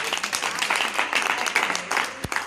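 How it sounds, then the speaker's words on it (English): A room full of people claps hands together in response to a call, a dense run of overlapping claps that holds steady for a couple of seconds before briefly thinning. "Everybody in the room, if you're happy and you know it, clap your hands."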